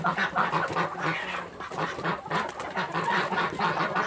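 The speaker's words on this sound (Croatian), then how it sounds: "Nije guska, nego patke." A flock of ducks quacks continuously and noisily, many overlapping calls close by, with a few honks from geese mixed in.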